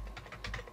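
A username typed on a computer keyboard, a quick run of about half a dozen light, close key clicks in under a second, quiet and with no voice.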